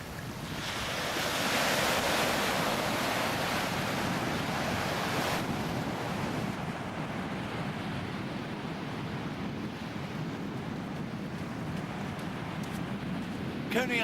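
Waves at Coney Island Beach in Brooklyn on a cold morning, a broad steady rush of surf mixed with wind noise buffeting the microphone, a surge swelling early then settling into a continuous wash, with a voice speaking over it.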